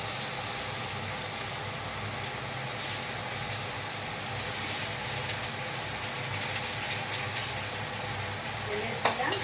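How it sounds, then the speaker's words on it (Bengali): Onion frying in hot oil in a pan, a steady close sizzle and hiss that runs unbroken, with light stirring scrapes and a brief clatter near the end. "এরপরে পেঁয়াজটাকেও তেলে দিলাম"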